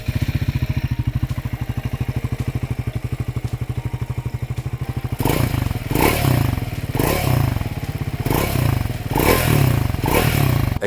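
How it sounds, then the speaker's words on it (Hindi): A Triumph Scrambler 400 X with a dual barrel exhaust idles with a steady, rapid thumping beat, then breaks into repeated loud revs, each burst rising and falling in rhythmic blips, close by and without talk. "एग्जॉस्ट की बात करें तो ये है ड्यूअल बैरल एग्जॉस्ट।"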